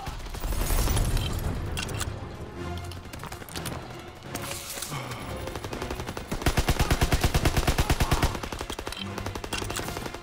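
Rapid gunfire in Call of Duty: WWII set in Paris, a loud unsuppressed gun rattling off bursts and sustained automatic fire amid game combat noise.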